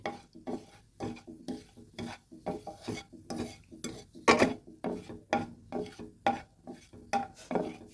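Spoon scraping rhythmically around a pan as lachcha semai fries in caramelizing sugar over a low flame, about two strokes per second, close and clear.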